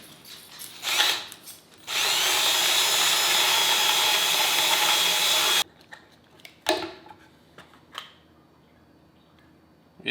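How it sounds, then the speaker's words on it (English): A power drill whirs loudly and steadily for about four seconds, then cuts off abruptly, followed by a few light clatters and handling noises. "you literally attach a drill and see if this will speed things up"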